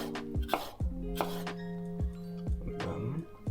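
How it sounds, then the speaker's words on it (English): A knife slices garlic on a cutting board in a handful of sharp, separate thunks at an uneven pace, up close, with pitched ringing tones lingering between the cuts. "And we can start to cut the other ingredients"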